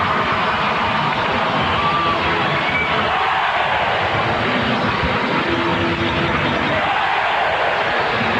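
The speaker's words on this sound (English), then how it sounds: "you can hear at home this Wilkes-Barre crowd, and the tie goal here has got them all fired up" Home crowd at a Wilkes-Barre hockey game during the 2001 Calder Cup Game 4 roars after the tying goal, a dense continuous wall of cheering and noise that stays loud throughout with swelling surges.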